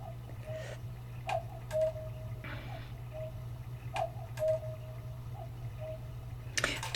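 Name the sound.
cuckoo clock ticking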